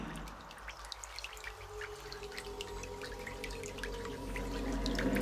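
Steady rain with scattered drips and patters, a continuous wet hiss that swells slightly louder toward the end, with no voices.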